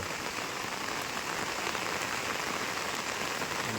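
Heavy rain pours steadily onto walls and ground outside closed shops, a dense, even hiss of drops that stays loud throughout.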